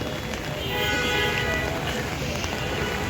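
Heavy rain falls on a flooded road near Kolatoli beach in Cox's Bazar, a dense, steady hiss and patter heard close up for a few seconds.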